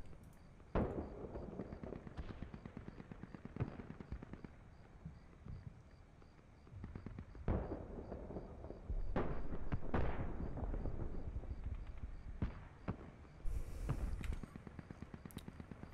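Artillery barrages in the wargame Combat Mission: Black Sea, a series of sharp booms and crackling impacts scattered across the stretch, some close and loud, others more distant, over steady background ambience.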